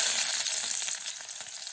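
Chopped onions hitting hot coconut oil in a pan, producing a bright, steady, close sizzle with faint crackles throughout.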